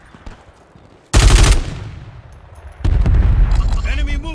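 Bursts of SMG fire in Warzone 3 on Fortune's Keep: a loud rapid volley, a pause, then a second sustained burst, with game sound effects between.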